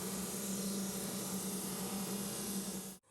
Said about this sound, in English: Again with the drum sander to make sure that everything is dimensionally the same.